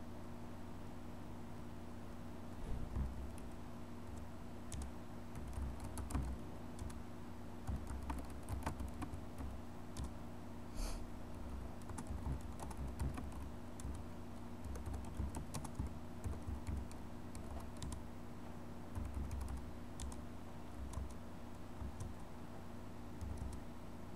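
Steady typing on a computer keyboard while entering booking details into an airline ticket program, a quiet, continuous patter of close key clicks with occasional louder taps, no voices.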